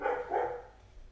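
A neighbor's dog gives two muffled barks from a distance, faint and indoors-sounding, with no talk over them.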